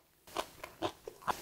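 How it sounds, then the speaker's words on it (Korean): Salted highland napa cabbage from Chiaksan in Gangwon is bitten and chewed up close, several crisp crunching snaps at irregular intervals over a quiet room, with no speech. "한번 배추를 제가 먹어볼게요."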